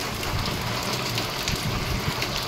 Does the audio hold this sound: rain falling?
yes